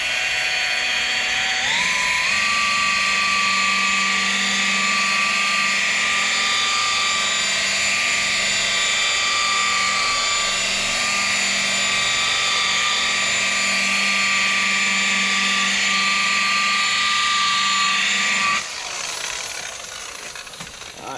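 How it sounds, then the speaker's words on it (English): Rotary polisher buffing a car's paintwork, a loud, steady high-pitched whine that holds for most of the stretch, then drops away near the end as the machine winds down. "when you're buffing, hold it up to the top"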